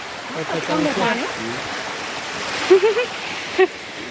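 A forest stream swollen by recent rain rushes in a constant broadband wash in the Ghumli jungle of Barda hills, with people talking over the water.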